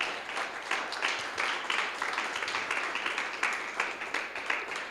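Church congregation clapping during a Spanish-language worship service, a continuous, moderately distant patter of many hands that stays even throughout without talk over it.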